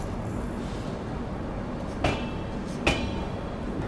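The Okha Express pulls away from platform 3 on a Puri to Visakhapatnam run, a steady low rumble of rolling wagons with two sharp metallic clanks from the couplings, heard from on board.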